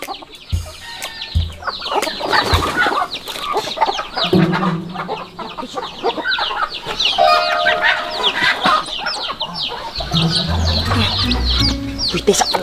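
Chickens cluck and squawk close by in an agitated flurry, loud and continuous, while people talk over them.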